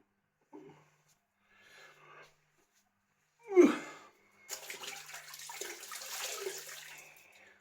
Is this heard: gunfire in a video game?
no